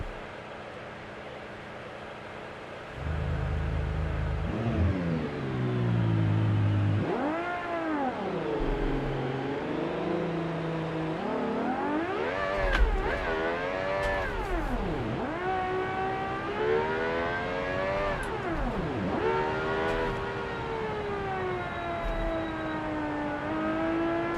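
Fan car in BeamNG, a downforce race car, its engine revving through repeated long rising and dipping sweeps over a steady whirring drone, loud and continuous with no talking.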